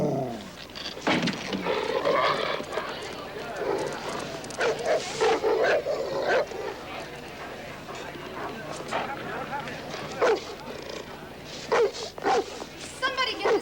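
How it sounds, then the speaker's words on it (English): A dog in a 1991 movie scene barks in short, repeated yips amid busy commotion and shouting voices, the barks sharp and close over a steady background of voices and movement. "Somebody get this dog out of here!"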